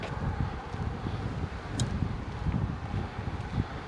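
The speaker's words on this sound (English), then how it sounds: "it's a beautiful morning, it's a bit of a head-on wind" Wind at a bass fishing spot on open water early in the morning, a steady low rumble of gusts buffeting the microphone, with faint background hiss and no voices.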